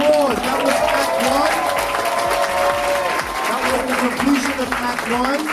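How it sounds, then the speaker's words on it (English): Audience applause fills a dance recital hall after Act 1 of a performance, a steady dense clapping with cheering and some music-like tones underneath, continuous and loud for several seconds. "Let's give Dance Expressions a big round of applause."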